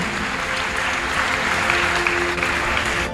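Church congregation applauding and cheering for Jesus, a loud, steady wash of many hands clapping continuously with crowd acclaim throughout.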